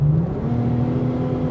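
Supercharged V6 of a 2017 Holden VF SV6 running, a steady close engine drone with a whine on top, even and continuous without revs.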